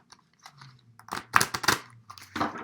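Tarot cards are shuffled by hand in a series of crisp, papery bursts that cluster and pause, close and fairly quiet over a faint low hum, with no talking.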